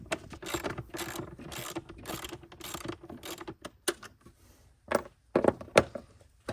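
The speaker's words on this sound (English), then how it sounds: "I'm finna go ahead and loosen this bolt right here" A hand ratchet loosening a bolt on an S650 Mustang clicks in rapid bursts of pawl ticks, pausing between strokes, then gives a few louder separate clunks near the end, close up with no talking.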